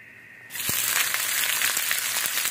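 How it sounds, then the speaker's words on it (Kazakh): Onion frying in hot oil in a pan, a loud steady sizzle that bursts in suddenly after a quiet start and crackles on without a break. "майға қуырамыз"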